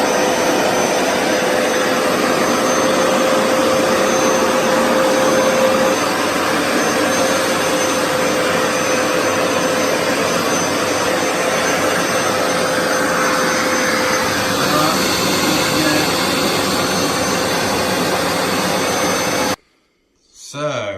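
A Rug Doctor deep carpet cleaner, model 93170, runs with a loud, steady whining motor drone and a sustained tonal hum, then cuts out abruptly near the end.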